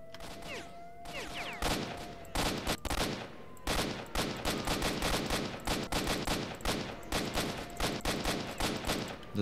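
Enemy soldiers in the S.T.A.L.K.E.R. video game open fire in a dense, continuous fusillade of rapid gunshots and bursts, loud and sharp throughout, with faint whizzing tones between shots.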